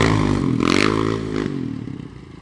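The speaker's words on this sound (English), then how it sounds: "Ken's riding up on Jimmy's Can-Am quad." A Can-Am DS 650 quad ridden on glare ice, its mid-pitched engine revving and droning with scraping and clattering, fairly close and steady for a couple of seconds.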